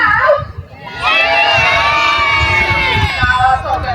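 A crowd including children cheers and shouts loudly at a sheep race, a sustained wave of excited voices and whoops building after a brief lull and staying strong, close and full.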